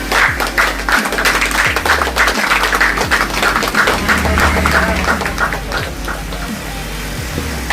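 Audience clapping loudly for a person being honoured at a ceremony, dense sustained hand claps close by that ease off slightly toward the end.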